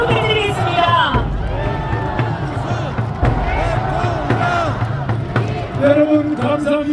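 At a final election campaign rally in Seoul Plaza, a large outdoor crowd applauds and cheers loudly through amplified voices, with chanting and loud thumps in a continuous roar.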